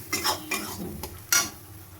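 A spoon scraping and stirring mustard spice paste in a pan for a rohu fish dish, a few distinct scrapes and clinks spaced out over a quiet background.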